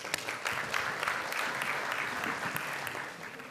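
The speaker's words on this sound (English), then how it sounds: "a big clap for them" Steady applause from a conference audience of school principals, dense and even clapping that holds at moderate volume across the room before tapering slightly.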